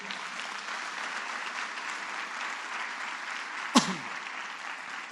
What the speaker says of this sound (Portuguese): Se você entendeu, dê uma salva de palmas, por favor.